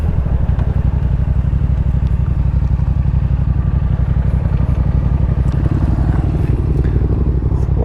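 A Yamaha FZ-07 motorcycle engine runs close and loud with a rapid, even throbbing pulse, holding a steady idle-like rumble throughout with no talk.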